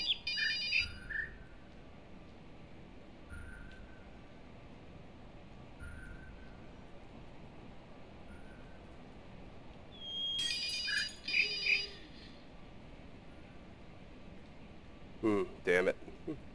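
A cell phone ringtone inside the video game The Witness, heard as short bursts of bright electronic chiming tones that appear several times over a quiet ambient background, with a louder cluster near the end.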